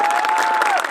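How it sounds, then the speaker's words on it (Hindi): An audience at a Lucknow event applauds, a loud dense burst of clapping lasting under a second, with a thin steady tone running through it. "इसके लिए ताली बजाओ"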